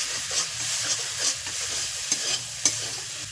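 Turmeric sautés in hilsa fish oil mixed with white oil, giving a steady loud sizzle and hiss broken by a few sharp clicks of a spoon stirring the pan.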